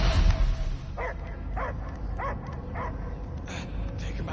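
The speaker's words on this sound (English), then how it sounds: "I hear only barking" A dog in the Guardians of the Galaxy video game gives a run of short, evenly spaced yips and barks, mid-distance and moderately loud, over a dense rumbling game soundscape.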